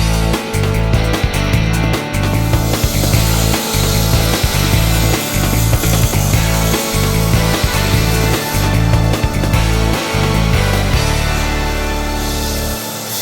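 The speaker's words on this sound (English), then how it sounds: "Let's get on the grinder and get rocking." A grinder shapes a knife handle with a loud, continuous abrasive whir broken by short rhythmic dips as the piece is pressed and lifted, winding down near the end with no talk.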